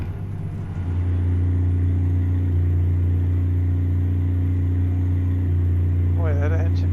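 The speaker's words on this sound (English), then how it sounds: "Boy, that engine falters." Western Star truck engine in American Truck Simulator, a loud steady low diesel drone with an uneven, faltering pulse that holds throughout, with a brief voice near the end.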